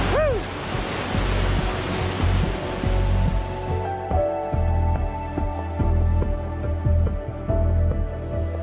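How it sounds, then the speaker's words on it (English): Powerful waterfall in the Philippines in the rainy season, a loud, steady broadband roar of falling water that fills the whole span, with no voices. "You can look at waterfalls, like, just powerful and flowing."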